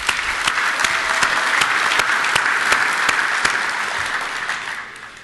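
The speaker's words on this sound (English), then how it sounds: "I want you to all give yourselves a round of applause" A conference audience at the APPA 2012 facilities conference gives loud, sustained applause, a thick wash of many hands that stays strong for several seconds and then tapers off at the end.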